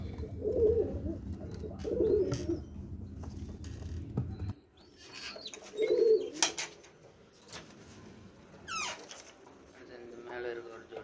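Karna pigeons, a paired breeding stock, give low repeated coos in the first half, near and fairly loud. Soft rustling and faint chirps follow as the cooing drops away.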